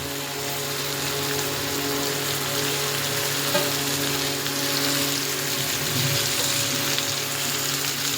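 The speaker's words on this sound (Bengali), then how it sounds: "এবার মাটনটা দিয়ে দেবো।" Pieces of mutton hitting a hot pan for a thin goat curry, made without turmeric or salt, give a steady broadband sizzle that stays loud and continuous throughout, with a low hum underneath and no talking.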